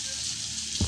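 Sweet potato frying in a pan over medium heat, a steady soft sizzle running throughout with a brief low knock near the end, no voices.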